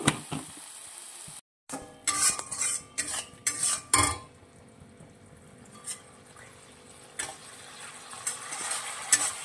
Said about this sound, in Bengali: মশলাটাকে ভালো করে নাড়াচাড়া করে নেব, কষিয়ে নেব।